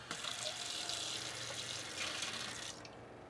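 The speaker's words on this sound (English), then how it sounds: "This is an on-demand water pump, so it's going to pressure up and stop" An on-demand RV water pump in an Airstream trailer runs under steady rushing water flow, a continuous close hiss and hum that stops abruptly near the end.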